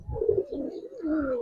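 Giribaz pigeons in a loft give soft, throaty coos, a couple of rolling phrases close by with low rumbling undertones.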